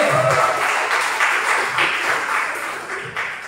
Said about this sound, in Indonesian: Terima kasih Bu Lili, tepuk tangan buat Bu Lili